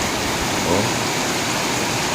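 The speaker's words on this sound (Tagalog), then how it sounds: "grabing lakas ng ulan. Ulan, sobrang lakas. Ulan at saka hangin." Heavy rain driven by wind pours down in a dense, unbroken roar of loud hiss that stays steady throughout.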